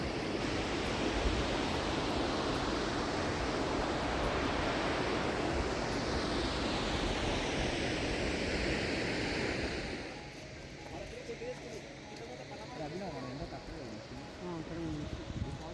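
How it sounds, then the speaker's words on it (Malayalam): Jog Falls, the waterfall on the Sharavathi river in Karnataka, gives a loud steady broadband roar of falling water for about ten seconds, then drops to a softer, more distant rush with faint voices. "ഇത് ഇന്ത്യയിലെ ഏറ്റവും ഉയരമുള്ള രണ്ടാമത്തെ വെള്ളച്ചാട്ടം കേട്ടോ"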